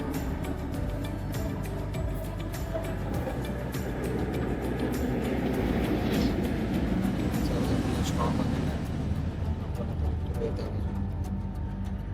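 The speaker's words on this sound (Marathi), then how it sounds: "मलेशियाच्या मेट्रो" A ride aboard a Malaysian metro train, a constant low rumble and hum of the carriage in motion with faint rattles, filling the whole stretch evenly from close by.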